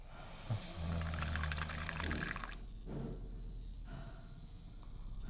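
Liquid pours from a bucket in the video game The Cat Lady, a loud gushing splash lasting about two seconds, then a few quieter trickles and drips with no talk.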